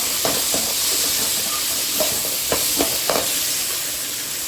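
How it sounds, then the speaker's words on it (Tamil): Chopped onions sauté with rock salt in a hot pan for a quick kurma, sizzling in a steady hiss, with soft scraping stirs at intervals close by. "வெங்காயம் நல்லா வதங்குறதுக்கு கொஞ்சமாக கல் உப்பு சேர்த்து நல்லா வதக்கிக்கலாம்."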